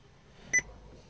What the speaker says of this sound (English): It does do this annoying beep after every time you press it.